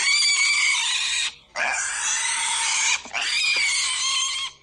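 A monster lets out loud, shrill, pig-like squeals in three long bursts separated by brief gaps, close and harsh with nothing else heard.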